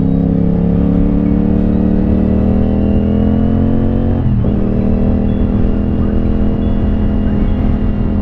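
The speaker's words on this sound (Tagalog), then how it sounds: "dahil nga maingay na yung motor mo eh" CF Moto 450SR-S motorcycle with an aftermarket exhaust pipe cruising on an expressway; a loud, steady engine drone mixed with wind rush runs throughout, dipping briefly in pitch midway, with no talking.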